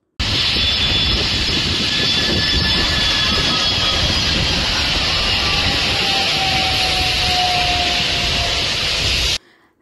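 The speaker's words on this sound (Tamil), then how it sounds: "உலகின் மிகப்பெரிய சரக்கு விமானங்களுள் ஒன்றான ஏர்பஸ் பெலோகா திடீரென சென்னை ஏர்போர்ட் வந்தது" Airbus Beluga cargo aircraft at Chennai airport, its jet engines roaring loudly and steadily with broadband rush and a slowly falling whine, then cutting off abruptly near the end.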